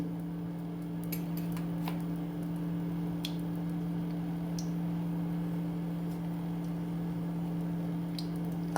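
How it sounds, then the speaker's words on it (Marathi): Scattered sharp crackles and pops from mustard seeds sputtering in hot oil, irregular and close, over a steady low electrical hum. "मोहरी छान तडतडली"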